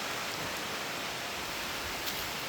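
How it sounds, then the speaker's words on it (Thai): Dense, steady hiss of heavy rain pouring down, constant and close, with no voices or other sounds. "ตอนนี้ฝนตก"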